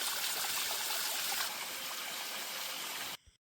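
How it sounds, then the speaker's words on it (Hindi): Water from a hillside stream runs steadily out of a pipe tap in a rural Uttarakhand village, a loud continuous splashing rush close by that cuts off abruptly at the end. "तो आप इस पानी की आवाज़ काफ़ी अच्छे से सुन सकते हो।"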